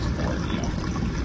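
Water from an HVAC condensate drain pours out in a steady, even splashing rush, brief and close, with no other sounds over it.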